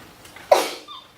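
A single sharp sneeze bursts out midway, loud and close, trailing off into quiet with a faint breathy tail.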